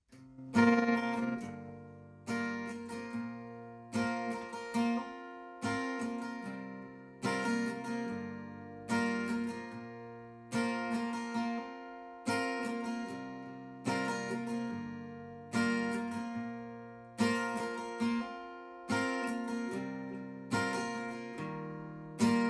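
An acoustic guitar plays the intro of a song, a repeating pattern of evenly spaced strummed chords ringing out and decaying, steady tempo, close and clear with no voices.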